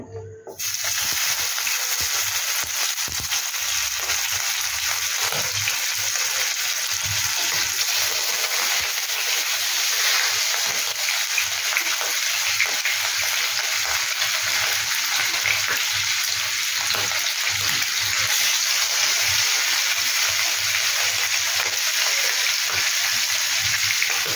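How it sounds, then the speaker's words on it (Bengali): Hilsa fish fries in oil in a non-stick pan, a steady close hiss and crackle of sizzling that runs continuously from start to finish with no talking. "আমি এটা খুব বেশিও ভাজবো না, জাস্ট একটু তেলে দিয়ে তারপরে তুলে নেব"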